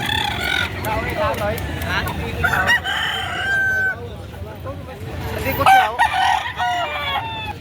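Roosters crow and hens cluck at a busy poultry market in Padre Garcia, Batangas, where gamecocks are sold. Loud repeated crows with rising and falling calls stand out over a constant murmur of crowd chatter.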